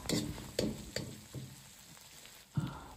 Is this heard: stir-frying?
yes